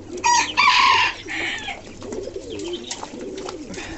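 Young fancy pigeons caught inside a water-filled ball make a loud flurry of splashing and fluttering at the start, followed by soft cooing and bird murmurs close by.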